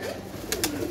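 Pigeons kept in a loft give a brief low coo at close range, with two short sharp clicks or rustles partway through.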